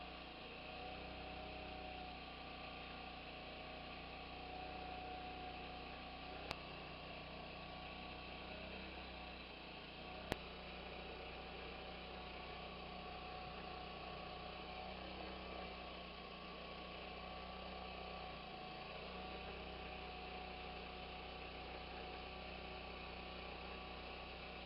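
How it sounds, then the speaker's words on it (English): Super Deal compact mini twin tub washing machine running off a generator, heard as a steady low mechanical drone with a constant hum, faint and unchanging, broken by two brief sharp clicks. "we'll flip this on and see how it runs off the generator"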